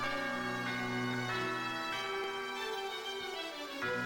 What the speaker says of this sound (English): what is spookier than tubular bells?